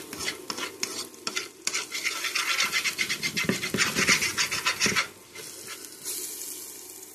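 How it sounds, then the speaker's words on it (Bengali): Onions with Maggi masala frying in a pan, stirred with rapid rhythmic scraping of a utensil against the pan over a bright sizzle, close and loud, then easing into quieter sizzling. "আমরা ওই ম্যাগি মশলাটা দিয়ে হালকা নাড়াচাড়া করে নেব"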